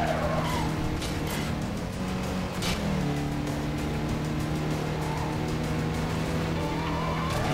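Engine roar and squealing tires as a car power-slides through a drift in the racing video game Need for Speed Carbon, loud and continuous, with the engine pitch shifting mid-slide and no talking.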